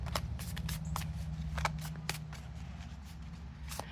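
A deck of oracle cards is shuffled in quick riffling bursts, crisp and close, over a quiet low background hum.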